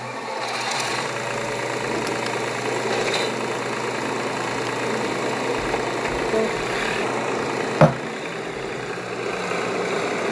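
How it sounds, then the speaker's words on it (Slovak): Tractor engine idling on a farm, a steady low rumbling drone with a faint knocking rhythm, one sharp click near the end, moderately close. "Teraz potrebujem ešte naštartovať traktor."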